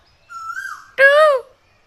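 A person imitates a bird call with their voice: a close, steady whistled note, then a louder, throaty hooting cry that rises and falls before stopping.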